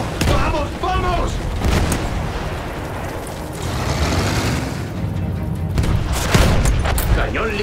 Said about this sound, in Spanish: ¡Esos cañones de campo nos están deshilachando la ropa!